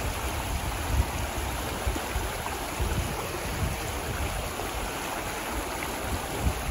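Strong, fast river floodwater rushes steadily in a dense, unbroken roar that stays loud and close throughout with no voices.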